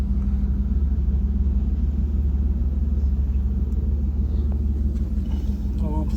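Automatic car wash machine running its pre-soak cycle over a pickup truck, a steady loud low rumble and motor drone that fills the whole stretch, heard from inside the vehicle.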